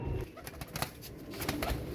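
Teddy pigeons cooing in a loft, soft low calls repeating steadily over a couple of seconds with faint background rustle.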